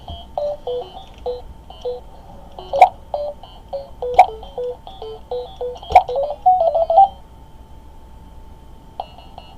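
Dual 4-bit sound from Duke Nukem on a Tiger game.com handheld: a run of thin, bright electronic beeps and tones, with several sharper clicks and a short sustained tone before it fades, loud and alone.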